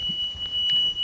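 A Topcon AutoGuide 3000 GPS unit installed in a Massey Ferguson tractor gives off a steady, thin electronic beep tone, faint and continuous over low background rumble.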